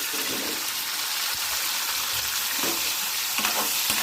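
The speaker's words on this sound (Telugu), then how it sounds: "ఇప్పుడు ఆయిల్ మరిగింది కదండి ఇందులో చికెన్ వేసుకోవాలి ఇప్పుడు హై ఫ్లేమ్ మీద పెట్టుకోవాలండి" Chicken pieces frying in hot peanut oil over a high flame give a dense, constant, loud crackling sizzle close up, with faint stirring noises underneath and no voices.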